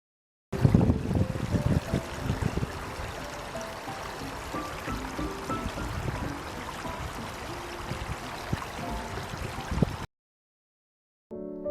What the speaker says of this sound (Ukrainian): Послухайте музику струмочка.